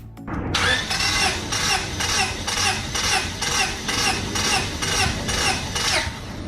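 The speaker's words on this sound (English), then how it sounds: "I'm going to crank the engine until the compression gauge reaches its maximum" Engine cranking on the starter during a compression test, with a steady rhythmic churn of about a dozen even compression strokes, loud and close with no talking.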